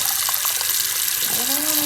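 Cold water runs from a tap over Magic cards held under it, a steady close hiss of flowing water that fills the whole moment, with a faint voice partly buried beneath.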